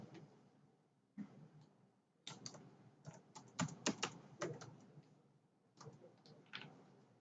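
Bursts of typing on a computer keyboard, quick clusters of key taps with pauses between them, close and fairly quiet, entering an event venue into a Magento marketplace event form.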